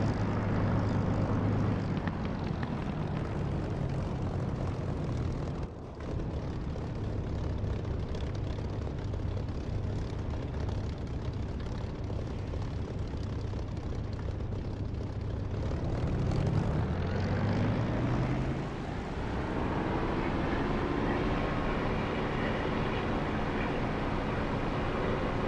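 A propeller aircraft makes a loud flyover in the DCS flight simulator game: a steady engine drone builds, sweeps through a rising then falling Doppler pitch shift near the end, and carries on as continuous drone.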